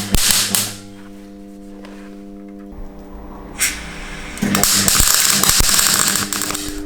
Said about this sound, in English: It's time to get this first little piece tacked in.